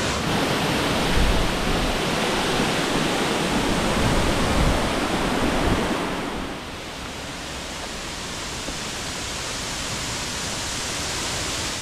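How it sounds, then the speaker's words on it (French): A steady roar of falling water from a large waterfall in Cuba fills the air, broad and continuous, easing slightly partway through but never stopping. "Et là devant nous il y a déjà la plus grande cascade"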